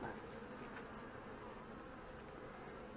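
Continuous, close humming buzz of many honey bees at a hive, steady and even throughout with no talking.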